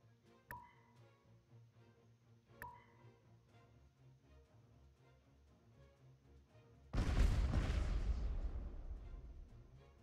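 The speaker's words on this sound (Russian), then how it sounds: "Это выстрел." After several quiet seconds broken by two faint clicks, a single loud gunshot bursts out and rings on in a long, fading decay.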